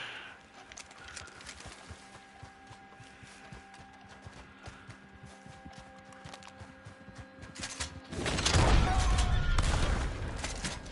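Gunfire in the Red Dead Online western game: scattered sharp cracks over busy ambient game sound, then a loud, sustained burst of shooting near the end.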